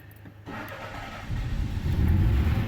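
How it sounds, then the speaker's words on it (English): A Citroen CX with electronic ignition cranks briefly, catches and fires up, settling into a close, steady idle that swells slightly louder over the last second, with no talking. "Electronic ignition, look at that, boom!"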